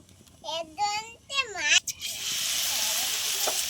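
Cauliflower, potato and egg chops are lowered into hot oil and begin frying in a broad, steady sizzle that holds for the last couple of seconds, after someone speaks briefly.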